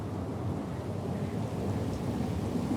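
Steady rain and rolling thunder from a storm at sea in the game Pillars of Eternity II: Deadfire, a continuous dense roar with no voices.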